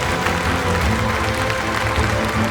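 Audience applause at a university graduation convocation ceremony, a dense steady wash of clapping from a large hall crowd, continuous and even throughout.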